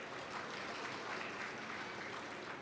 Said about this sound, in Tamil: உண்மையிலே புத்தகம் வாங்கினவங்களுக்கு ஒரு பெரிய கைத்தட்டல் கொடுங்க